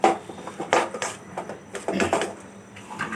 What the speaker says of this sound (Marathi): हे ते मसाल्यामध्ये ना आपला जो बटाटा आहे ना छान असा मिक्स करून घ्यायचा।